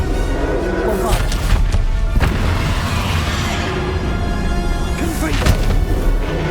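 Bombarda spell explosions in the video game Hogwarts Legacy, with heavy booming blasts and crashes recurring across the stretch amid a dense, loud mix of combat effects and a voice casting spells.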